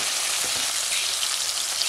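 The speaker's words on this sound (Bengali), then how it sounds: "টমেটো আর মটরশুঁটিটা হালকা আমি ফ্রাই করে নেব।" Tomatoes and green peas fry in a pan for a cabbage curry, giving a steady, dense sizzle that stays even and fairly loud throughout with no pauses.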